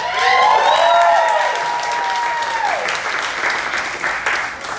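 An audience claps and cheers at a graduation show in the Limelight Theater, with dense, sustained applause and a few whistles rising above it, loud and close throughout.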